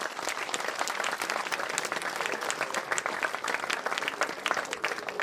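A crowd at a temple consecration gathering claps in warm welcome for a guest, with dense, sustained applause that holds steady from start to finish.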